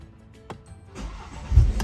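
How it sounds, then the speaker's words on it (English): A 2017 BMW 530i engine cranks and catches, a brief starter whirr followed by a low rising rumble as the motor fires up nearby, loud and without talk. "Let's start the engine."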